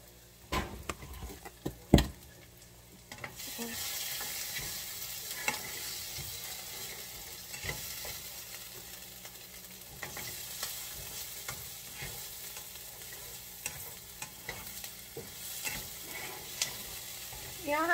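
Onions sauté in a pan for an Amish country casserole, a soft continuous sizzle that runs throughout with scattered spoon scrapes and taps. There is an early clunk as it starts, and no speech is heard.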